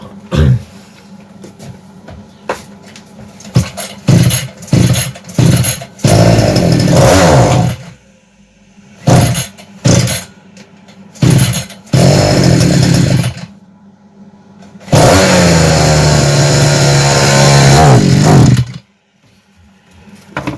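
A Kitprom petrol brush cutter with a newly fitted carburetor is pull-started: a series of short sputtering bursts and failed catches, then the engine roars briefly several times, ending in a sustained loud run before cutting out.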